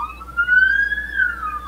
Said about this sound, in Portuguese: A ambulância tava batendo aqui, eu tava esperando passar.